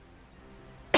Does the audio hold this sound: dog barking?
no